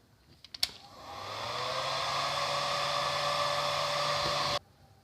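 A hair dryer blowing on a small test patch of acrylic paint, switched on after a few clicks and running as a steady, loud whirring roar for about three seconds before cutting off abruptly.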